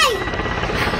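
A helicopter flies close by during an outdoor event, its loud, continuous rotor and engine roar filling the short moment, with a voice briefly audible over it.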